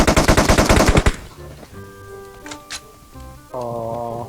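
Gunfire in PUBG Mobile comes as a fast, loud burst of automatic shots lasting about a second, followed by quieter game tones and effects.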